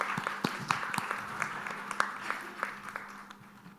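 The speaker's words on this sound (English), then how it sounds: "keep that applause going for our distinguished panelists" Scattered applause from a conference audience for distinguished panelists at an investment forum, with individual claps distinct over a soft room murmur and slowly thinning toward the end.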